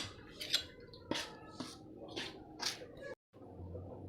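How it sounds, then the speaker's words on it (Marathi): A spoon clinks and scrapes softly in a bowl, stirring hot oil into moong dal kachori dough, with a handful of light, irregular taps close by in a quiet room. "गरम तेल होतं म्हणून चमच्याने जरा मिक्स केलं"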